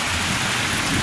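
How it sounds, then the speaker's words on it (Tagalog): Heavy rain pouring down in a dense, unbroken hiss of countless drops striking surfaces, loud and close, with no speech. "Ang lakas ng ulan"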